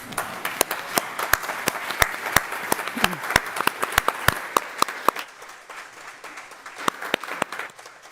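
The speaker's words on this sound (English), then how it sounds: "Give yourselves a round of applause." Church congregation applauding to honor volunteers: distinct, sharp individual claps ring out over a softer crowd patter, thinning toward the end with scattered lingering claps.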